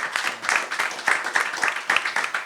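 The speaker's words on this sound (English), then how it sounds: "Please, another round of applause for Nell." Applause from an audience at a music city forum in Houston, a steady wash of many hands clapping with irregular louder bursts, fairly close and continuous with no talking over it.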